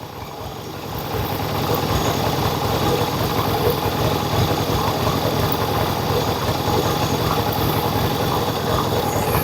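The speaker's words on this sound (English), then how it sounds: "It's still crackling and popping out the exhaust, and the issue I've got is that it falls on its face if you try to give it some throttle." Yamaha XS1B motorcycle engine idling with retarded ignition timing, a steady close low throb with rapid irregular crackling and popping from the exhaust, continuous and fairly loud.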